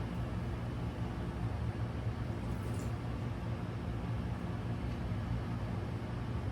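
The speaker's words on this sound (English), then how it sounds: "It's just the air conditioner I left on." A faint, constant low hum and hiss runs throughout without change, like an air conditioner droning in the background.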